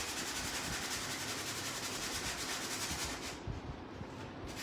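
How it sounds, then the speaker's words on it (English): An electric sander works over wooden house cutouts with a steady, close, rasping whir that runs without a break and eases slightly toward the end. "This is so much easier with my electric sander"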